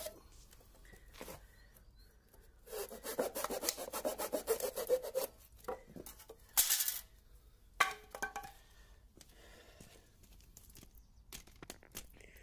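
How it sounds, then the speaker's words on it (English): A handsaw finishes cuts in wood for a table leg, heard as faint, irregular rasping strokes in a few bursts with gaps, along with scattered light knocks and handling noise. "I'll use the handsaw then to finish off the cuts where the circular saw wasn't able to get right in"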